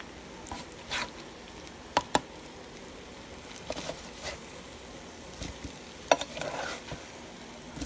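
Eggs cooking in a pan for breakfast, a soft steady sizzle with a few sharp clicks and scrapes of a utensil as they are flipped, close and fairly quiet with no talking.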